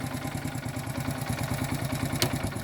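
Motorcycle engine fitted with an HHO fuel saver kit idling steadily at low rpm, a close, even exhaust chug with rhythmic clatter and a brief sharper click near the end.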